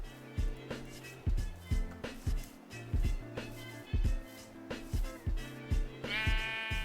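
Sheep in the video game Minecraft bleating repeatedly, a run of short, close bleats in quick succession with game sound effects between them and no talk.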